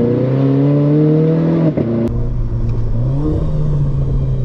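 A Renault 4 RS Trophy, a front-wheel-drive car, accelerates hard with a loud, close engine note whose pitch climbs, briefly breaks as the front wheels slip, then rises again.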